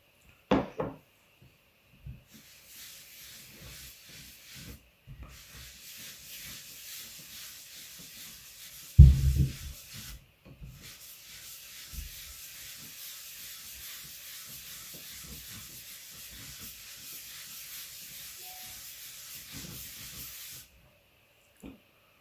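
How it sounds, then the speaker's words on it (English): Beeswax is rubbed onto wooden cutting boards by hand, producing soft, continuous scrubbing and hissing friction in long close strokes, broken by brief pauses and a few knocks as the boards are handled. "I'm gonna put some beeswax on these guys"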